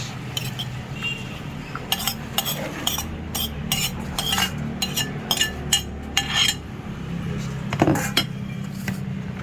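Fish, pork, carrots, radish and cucumber are stirred together in a pan, with a utensil clinking and scraping against the cookware in quick irregular strokes, close and fairly loud over a low steady background hum.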